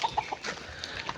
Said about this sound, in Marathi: हे सकाळी सकाळी कोंबड्या भरपूर आहेत.